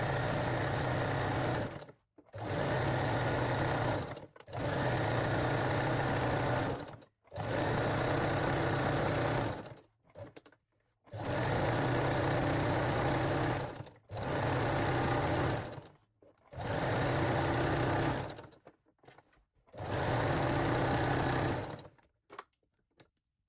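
A sewing machine stitches elastic onto the edge of Brazilian-style panties, running in steady bursts of a few seconds each with short pauses between, close and fairly loud with no talking.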